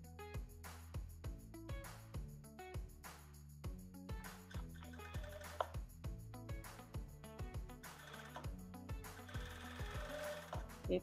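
A sewing machine sews plus-size boxer briefs, running in quiet, rhythmic bursts of mechanical stitching that repeat steadily, heard alone at a low level.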